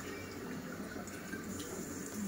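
Water is poured into a pot of chicken wings sitting in beer, a soft continuous trickle and splash close by, fairly quiet and lasting about two seconds with no talking.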